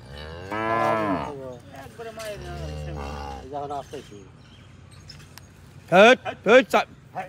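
Cattle on a cow farm moo in several calls, a long low moo early and a run of sharper bellows near the end, close by, with people talking in between.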